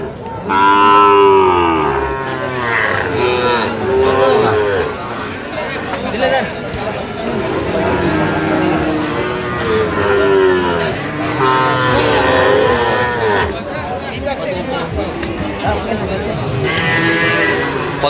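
Sahiwal calves and cattle low and moo repeatedly at a busy cattle market, loud overlapping calls running throughout amid crowd chatter and voices.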